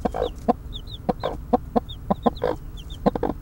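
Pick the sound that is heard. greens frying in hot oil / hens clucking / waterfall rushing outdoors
hens clucking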